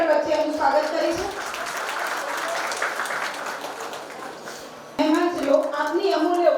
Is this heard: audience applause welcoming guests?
yes